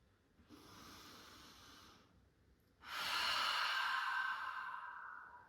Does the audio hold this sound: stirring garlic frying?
no